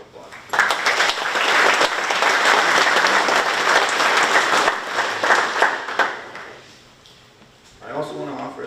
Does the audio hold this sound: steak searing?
no